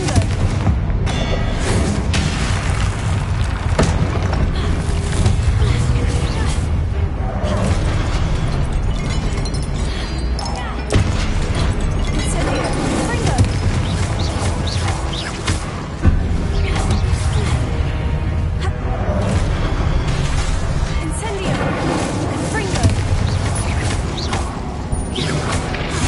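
Hogwarts Legacy gameplay with the Confringo fire spell fired repeatedly, giving dense, loud booming blasts and rumbling impacts that run continuously under layered game sound effects.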